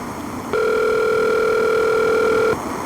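A telephone ringback tone plays while a brother is being called, one steady electronic tone lasting about two seconds, loud and clear over quiet room noise.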